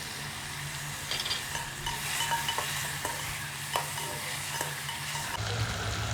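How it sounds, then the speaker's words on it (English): Roughly chopped tomatoes and green chili being stirred into onion masala in a pan for Kerala egg biryani give a continuous soft sizzle with repeated scraping strokes of a spoon, moderately close. "Now add roughly chopped tomatoes and green chili along with this and mix it well with the"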